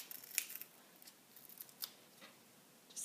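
Paper being trimmed with scissors for card making, a handful of crisp snips at irregular intervals, close and quiet with no voices.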